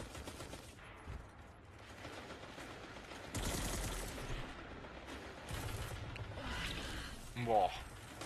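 Bursts of gunfire ring out in a video game, a few separate volleys of rapid shots spaced across the stretch over a quiet, low background.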